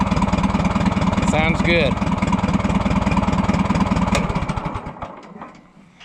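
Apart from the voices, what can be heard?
Oliver 60 tractor engine idling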